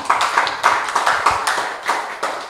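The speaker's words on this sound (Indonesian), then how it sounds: "Kita beri aplaus dulu untuk Pak Hartono dong." Audience applause for Pak Hartono at a Kalimantan Utara panel discussion: a modest round of scattered, close hand claps with irregular sharp hits, fairly sparse rather than a roaring crowd.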